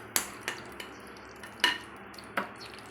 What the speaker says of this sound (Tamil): இப்போ நம்ம அரைச்ச பூசணிக்காவை இதில் சேர்க்கணும்